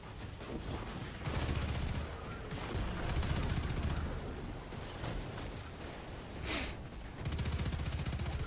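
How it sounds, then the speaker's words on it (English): Rapid automatic gunfire from a submachine gun in a Destiny 2 dungeon, mixed with game effects; dense, continuous bursts stay loud throughout with brief lulls and no talking. "the SMG and stuff works really well, because obviously when I don't want to spam my machine gun, then I can just spam funnel web"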